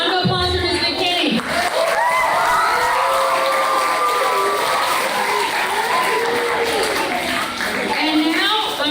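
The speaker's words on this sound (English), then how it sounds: "A round of applause for Ms. McKinney." An audience of students and guests at an elementary school honors ceremony breaks into loud, sustained applause and cheering, with children's shouts rising through the clapping for nearly nine seconds before it briefly dips.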